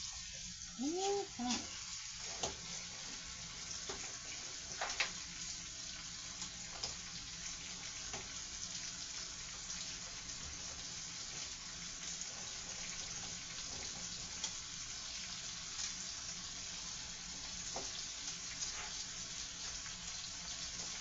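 Onions fry in a pan with a soft, steady sizzle and occasional stirring clicks, heard faintly, while a voice talks briefly at the start.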